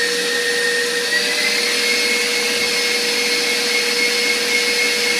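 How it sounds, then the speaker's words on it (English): Electric mixer whisking root beer float pie filling, a steady, loud, even motor whir that runs without a break and with no talking. "I'd rather let my mixer do it for me"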